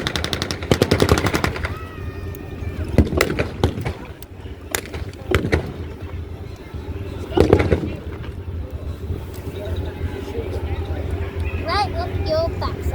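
Gunfire cracks out at a WW2 re-enactment weekend: sharp, loud shots in scattered bursts with rapid strings at times, separated by gaps of background noise and a few voices.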